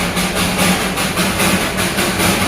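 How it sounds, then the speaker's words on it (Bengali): Steam engine of the Darjeeling Himalayan Railway toy train rounding the Batasia Loop, a steady loud rumbling chug with regular puffing surges about every half second, close by and with no talk. "আর আওয়াজটা পাচ্ছেন স্টিম ইঞ্জিনের।"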